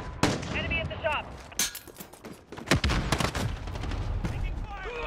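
Gunfire in Call of Duty: Modern Warfare, sharp rifle shots and short bursts cracking at irregular intervals, some close and loud, others farther off, with shouted voices and radio chatter mixed in during combat.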